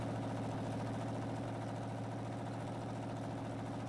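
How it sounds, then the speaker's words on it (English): A tractor engine idles steadily in Farming Simulator 19, a continuous low mechanical drone with a pulsing rumble that holds even and loud with no other sounds. "it looks like I need to back the tractor up again"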